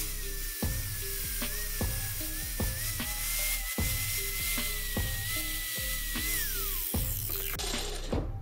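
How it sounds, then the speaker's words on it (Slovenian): A power grinder works steadily on a metal part of a Yugo clutch pedal in a workshop, a loud continuous high whine with rhythmic scraping pulses roughly every half second, close to the microphone. "tako da ćemo brusiti i ovaj dio"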